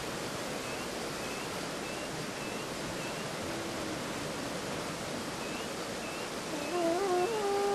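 Steady, dense rushing water roars without a break, a full broadband wash like a big waterfall close by, with a faint tone creeping in near the end.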